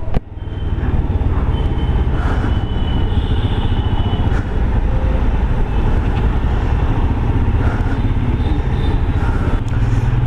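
A Royal Enfield Himalayan 411 motorcycle in sleet black on its first ride, its engine and road noise a steady loud drone with wind rush throughout, no voices.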